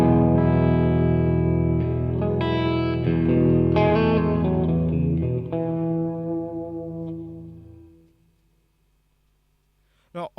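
A distorted electric guitar chord through a Boss Katana 100 combo amp rings out with an exaggerated, long reverb tail that slowly decays into near silence, followed by a short sharp click at the end.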